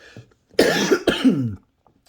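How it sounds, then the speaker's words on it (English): Two harsh, close coughs from a man recovering from a cold, the second following just after the first, with near silence before and after. "Excuse me for my cough."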